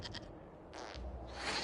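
A goat in Dragon Age Inquisition gives a couple of short, quavering bleats, faint and brief, with soft scraping in between.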